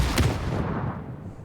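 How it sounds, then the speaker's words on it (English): Two explosions go off in quick succession in PUBG, a heavy booming double blast that rolls off and fades over about a second. "Why was that a double explosion?"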